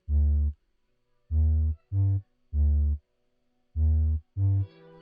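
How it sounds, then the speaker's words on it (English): A slow, basic 808 bass pattern with distortion, made in FL Studio, thumps out six deep, booming notes of uneven length with gaps between them, played alone. "which is just a very basic 808 pattern"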